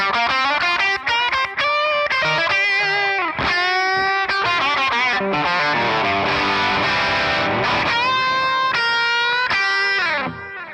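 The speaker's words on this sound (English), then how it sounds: "You notice that I turned on a delay, a tape echo delay from Softtube, also on the solo." Electric guitar solo played through pedal-style distortion and a Softube tape echo delay with heavy feedback, loud and continuous, sustained bent notes smeared into repeating echoes.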